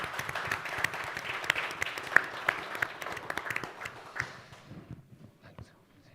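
An audience at a panel event on home retrofit applauds steadily for several seconds, the clapping fading out toward the end, with a few voices mixed in.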